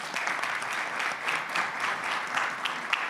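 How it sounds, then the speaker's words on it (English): Steady round of applause from a conference audience for a moderator at a forum on Belarus's democratic struggle, a dense even patter of many hands with no voices. "Ladies and gentlemen, also a round of applause for the moderator"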